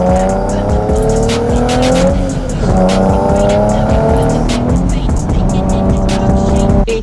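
A Nissan Z 600R twin-turbo prototype laps a race track, its engine revving hard up and down through gear changes with squealing tires, loud and close from inside the car.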